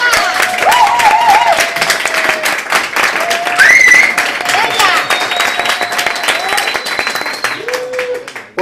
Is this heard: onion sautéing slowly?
no